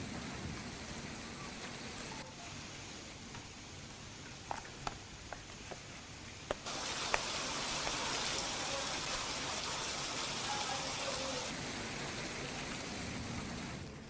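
Heavy monsoon rain pours down in Ambaji, a steady dense hiss that grows louder partway through, with a few sharp drips and knocks close by and no talk.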